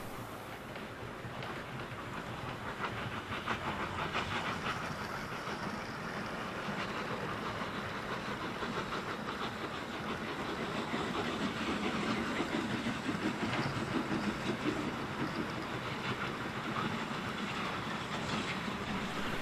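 Bachmann model Lord Nelson class steam locomotive running steadily, its eight-beat exhaust blending into a continuous chuffing and rail clatter that stays loud and even throughout, with no voices.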